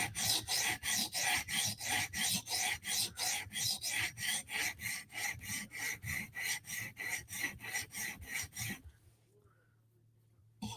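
Rapid, even strokes of a Vero Synapse or Berg knife blade edge on a sharpening surface form a close, rhythmic scraping run that stops abruptly, leaving quiet room tone.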